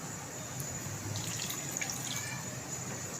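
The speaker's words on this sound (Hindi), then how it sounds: "अब इसके अंदर हम 1 कप पानी डालेंगे" A cup of water is poured into a pan of browned chicken karahi, giving a faint, steady liquid rush and light splashing close by, with no talking.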